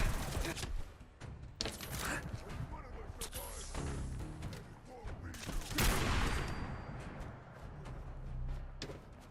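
Gunfire in the video game Fallout, with rapid bursts of shots and heavier blasts mixed with impacts, loud and uneven across the stretch.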